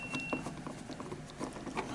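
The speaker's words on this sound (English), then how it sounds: "So let's undo these 3 bolts here so we can give ourselves some more space." Rapid clicking of a ratchet undoing bolts on an Aprilia RSV4 motorcycle, a steady mechanical patter of small ticks, close and fairly quiet, with no talk.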